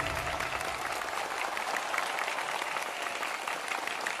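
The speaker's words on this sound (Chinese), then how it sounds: "同样，掌声也送给我们的陈映泉、侯振鹏。" An audience at a crosstalk comedy show claps in a steady, dense burst of applause that stays even and fairly loud throughout, with no voices over it.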